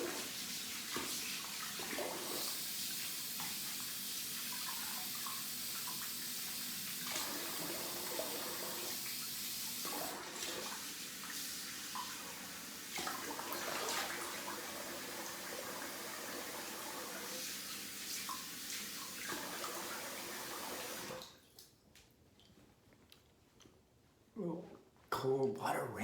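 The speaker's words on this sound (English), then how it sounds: "So I'm gonna rinse the face here." Running water splashes steadily as a freshly shaved face is rinsed with cold water at a sink, a continuous broadband wash with brief pauses, ending in quieter splashes and small knocks.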